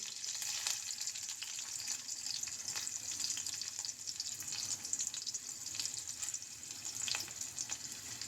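Green chillies and garlic fry in ghee in a pan, giving off a steady, soft sizzle that continues through the whole stretch without pause.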